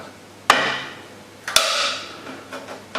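A support rod is tapped down into a wooden stand, giving two sharp, close knocks with ringing decay, then a few lighter taps.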